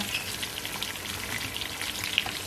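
Crab frying in a pan for a curry-powder crab stir-fry, a steady close crackling sizzle with fine popping throughout, no voices.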